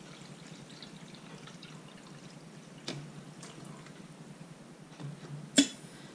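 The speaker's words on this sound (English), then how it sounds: "let's go ahead and pour the full amount of the 12 cups" Water poured into the reservoir of a 12-cup coffeemaker makes a faint, steady trickle with a couple of soft knocks and a sharper clunk near the end, all at low level and close by.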